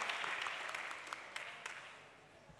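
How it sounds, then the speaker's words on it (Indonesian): Audience at a talk on Islamic preaching clapping briefly, a fairly faint wash of applause that gradually fades out. "Tepuk tangannya mana?"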